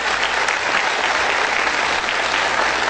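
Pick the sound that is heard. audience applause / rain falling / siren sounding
audience applause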